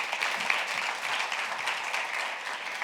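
Applause rises from a church congregation during a Spanish-English bilingual Friday service, a steady wash of many clapping hands that holds at an even level with no talk.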